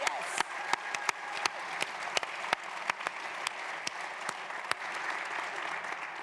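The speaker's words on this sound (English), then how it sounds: "Round of applause for that." Steady audience applause at a school wellbeing leadership certification event in Miami, a dense bed of clapping with a few sharp, close hand claps standing out, continuing evenly throughout.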